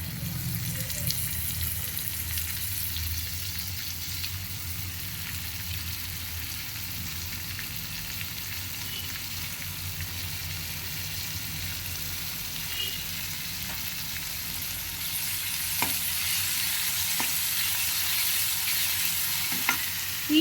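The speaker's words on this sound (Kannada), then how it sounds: "ಇವಾಗ ನೋಡಿ, ಆನಿಯನ್ ಫುಲ್ ಎಲ್ಲ ಫ್ರೈ ಆಗೋಗಿದೆ" Onion sizzles steadily in a hot pan for lemon rasam while being stirred, a constant loud frying hiss with occasional faint scraping and clinks from the stirring.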